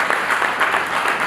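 Applause for the bride and groom at a wedding, Kwizera and Aline, a brief steady wash of clapping from a crowd, fairly loud and even throughout.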